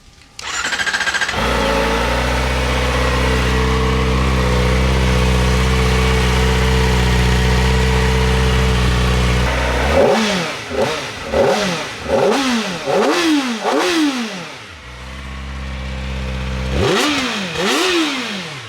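A Kawasaki Ninja ZX-4RR sport motorcycle engine fires up and idles steadily, then revs sharply toward 16,000 RPM in a series of rising, high-pitched bursts through the stock exhaust, loud and close, with no talking.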